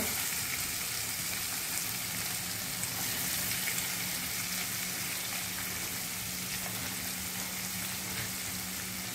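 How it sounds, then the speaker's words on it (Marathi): Onion, garlic and chilli fry in a pan as they are stirred, a dense, even, low-level hiss running throughout without distinct strokes; fairly quiet and no voices. "व्यवस्थित कांदा हलवून घ्यायचं"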